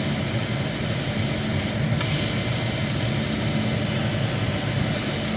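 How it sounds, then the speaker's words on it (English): A CO2 laser cutter runs with its air compressor going, giving a loud, constant mechanical drone up close. A faint tick cuts through about midway. "I'll wait for the compressor to stop, then I'll turn it off."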